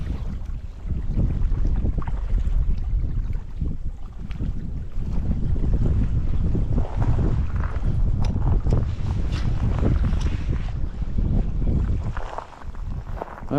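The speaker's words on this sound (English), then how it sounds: "That wind is blowing." Strong wind blowing at a lake bank during a cold front, a loud continuous roar and buffeting against the microphone that swells and dips, with a deep rumble and no voices.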